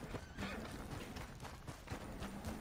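A video-game horse whinnies faintly over a run of soft, rhythmic hoofbeats that stays quiet and distant the whole time.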